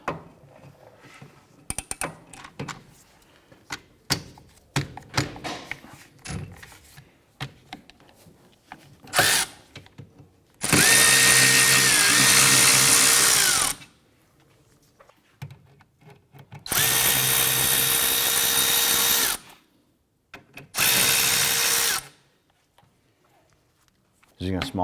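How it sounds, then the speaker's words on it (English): A power tool with a 14mm socket removes the two rear brake caliper bolts on a 2004-2008 Acura TL. It whirs loudly in three sustained bursts of a few seconds each, separated by scattered clicks and clanks. "Using a 14mm socket, we're going to go ahead and remove our 2 caliper bolts."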